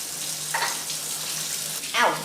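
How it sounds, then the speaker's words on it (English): Running tap water hisses steadily, with faint splashes of hands being washed under the stream. "First step is to wash my hands thoroughly with soap."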